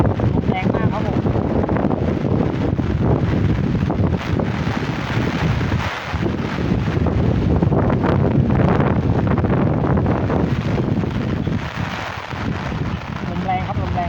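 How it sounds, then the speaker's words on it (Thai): Strong wind from a rainstorm roars over flooded rice fields, buffeting the microphone in a loud, continuous rush with brief dips, while someone speaks under it. "ลมแรงครับลมแรง"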